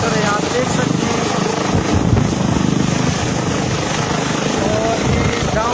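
Loud, steady helicopter roar with a dense rotor chop and engine drone near a chairlift in Battagram, continuous throughout, with a voice briefly audible over it.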